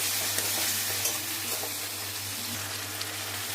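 Chopped garlic and ginger being sautéed with soy sauce and tomato sauce for chilli paneer, a dense close sizzle with soft stirring and a low steady hum, no voices.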